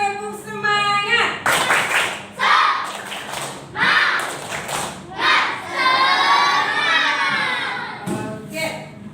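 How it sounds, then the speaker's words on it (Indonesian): Repeated 'tepuk semangat' spirit clap from a group, rhythmic clusters of hand claps interleaved with loud chanted voices, close and lively. "Sekali lagi tepuk semangat."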